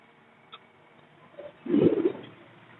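Multani fancy pigeons at a bird market giving a low, throaty coo, one soft rolling call close by after a faint click, otherwise quiet.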